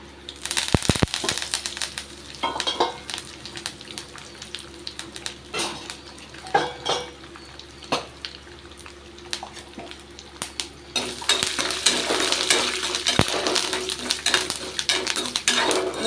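Peelead peanuts and torn curry leaves drop into a hot oiled pan for tamarind poha upma, with metallic scraping and clinking of a spoon stirring, followed by a louder, steady sizzle.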